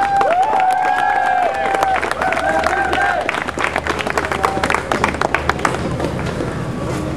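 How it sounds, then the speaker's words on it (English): A crowd at an on-stage dais ceremony with dignitaries applauds and cheers throughout, steady clapping mixed with voices and a public-address tone sounding over it. "One bigger round of applause,"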